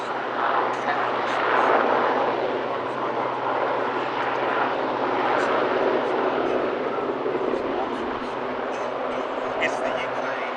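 A Sea King helicopter at the Midlands Air Festival airshow gives off a continuous whirring rotor and engine roar from a moderate distance, steady throughout, with crowd noise in the background.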